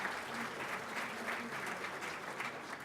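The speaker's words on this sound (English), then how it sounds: "let's have a round of applause for Matty Singer, the Humdinger." A crowd claps steadily for a performer in a round of applause, dense and continuous throughout, with no voices over it.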